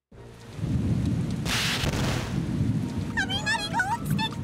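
Thunder rumbles and crashes over steady pouring rain in a disaster-prevention cartoon, with a loud burst of thunder partway through and a character's voice near the end.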